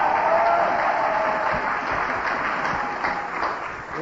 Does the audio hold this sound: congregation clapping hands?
yes